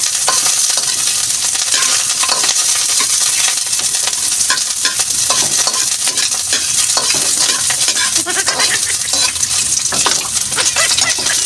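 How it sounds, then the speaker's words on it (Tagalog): Onion sautéing in hot cooking oil in a home kitchen, with a steady loud sizzle and crackle throughout and intermittent scraping and stirring clicks of a utensil against the pan, close up and without talk. "nagpainit lang ako ng mantika at igigisa ko na yung sibuyas"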